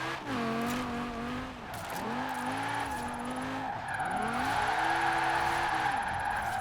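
Car sliding sideways in a drift in Forza Horizon 4, tires squealing steadily over a revving engine whose pitch swoops up and down, loud and continuous with no talking.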